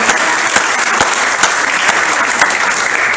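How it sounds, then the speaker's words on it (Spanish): A church congregation applauds loudly and continuously, a dense burst of clapping with a few sharper individual claps standing out. "Podemos darle un fuerte aplauso al Señor porque Dios nos quiere usar"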